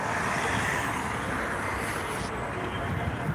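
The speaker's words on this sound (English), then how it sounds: "There's the buses coming in, electric buses." Electric buses pull in through street traffic in front of Parliament by Pioneer Park on a cold day, a steady broadband traffic roar with a brief hiss shift near the end, no clear individual vehicle standing out.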